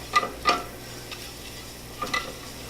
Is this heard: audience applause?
no